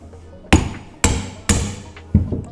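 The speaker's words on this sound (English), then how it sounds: "Just some gentle taps, and the actual head of the bolt goes right through it" Hammer giving gentle taps to drive a stock bolt through a greased suspension bushing sleeve on a lifted Pajero's front end, four sharp metallic knocks, the first three close together and a fourth after a pause.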